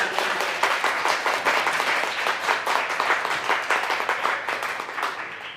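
A crowd applauds steadily for several seconds, dense clapping that stays even before tapering slightly at the end.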